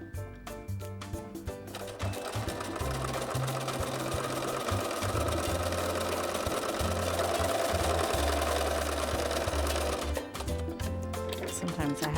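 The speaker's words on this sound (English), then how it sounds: "let's take it to the machine and sew" A sewing machine stitching quilt fabric along marked lines, running in a steady rapid mechanical whir for most of the stretch, with slower, lighter stitching at the start and end.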